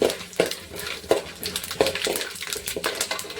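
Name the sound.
cumin and mustard seeds frying in pan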